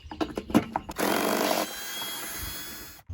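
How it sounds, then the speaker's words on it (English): A T30 Torx bit on a power driver backs out the screws on a Husqvarna or Craftsman mower mandrel housing cover: a few short ratchety bursts, then a steady buzzing whir for about a second, fading into quieter rattling. "A T30 Torx bit will take off the screws for this cover."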